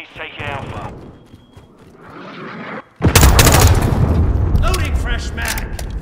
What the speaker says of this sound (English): Friendly cruise missile inbound.